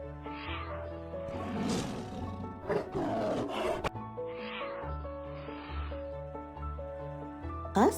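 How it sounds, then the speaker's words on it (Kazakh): A tiger roars in several deep, rumbling bursts and growls one after another, loud and close, with no talk. "Жолбарыс, өлекшін, олардың төлі шөнжік."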